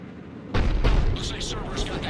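A heavy Cerberus cannon fires in the Mass Effect 3 video game, a sudden deep booming blast that rolls into a rumbling, crackling tail.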